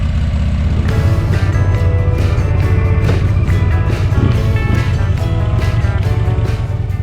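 A Victory motorcycle pulls away from a stop, its big engine a steady, loud low rumble with gear-change surges and rushing wind, close and continuous with no talk.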